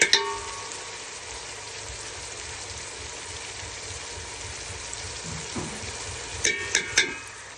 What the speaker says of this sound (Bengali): মশলাগুলা দেওয়া হয়ে গেছে বন্ধুরা, মশলাগুলা ভালো করে একটু কষিয়ে নেব।